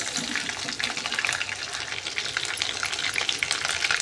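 Chicken pieces fry in hot oil in a pan, giving a steady, dense crackling sizzle with soft scraping as the meat is stirred, close and continuous throughout.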